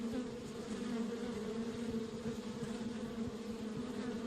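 Buzzing bees in the Kelvin and the Infamous Machine video game, a continuous close, steady drone of several insects with no talk.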